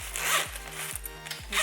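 A zipper on the inside of HEYS luggage is pulled in several quick rasping strokes, close and crisp, with brief pauses between pulls.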